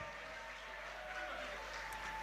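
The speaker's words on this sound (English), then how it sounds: "A round of applause for Elike Designs." Steady applause from an audience at a school fundraising fashion gala, a dense wash of clapping that holds evenly throughout at a fairly faint, distant level.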